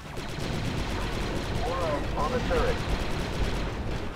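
Rapid blaster gunfire in the Star Wars: Republic Commando video game, a dense continuous barrage of shots with battle noise and chirpy electronic tones, voices faintly mixed in.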